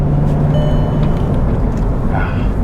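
A cheap diesel VW Passat drives along, its low engine drone and road rumble steady and close from inside the cabin, with a brief faint squeak near the end.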